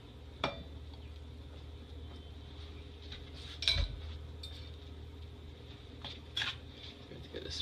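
A spoon scrapes and clinks against a pot while stirring rice in boiling water, with a few distinct knocks over a quiet bubbling background.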